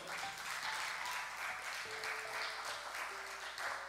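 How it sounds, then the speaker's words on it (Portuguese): A church congregation applauds the Lord during a sermon, a full room of sustained clapping that holds steady throughout, with faint voices and a tonal hum underneath. "Então aplauda o Senhor."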